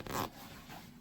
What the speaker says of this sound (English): don't go racing with the zipper